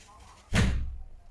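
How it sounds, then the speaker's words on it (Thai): An indoor door slams shut in a quiet room, one loud thud with a short rumbling decay. "เดี๋ยวผมขอปิดประตู เสียงข้างนอกดัง"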